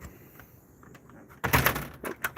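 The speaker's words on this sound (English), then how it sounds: "I need to make sure that door is closed." A door swings shut with a sudden loud, broadband thud and rattle after a quiet stretch of faint ambient hiss, during snowfall in the Texas Panhandle, followed by a few smaller knocks.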